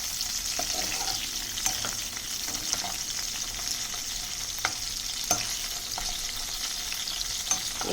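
Dry salt fish frying in a pan while being made into curry with brinjal, a steady soft sizzle with scattered crackles and pops spread across the whole stretch.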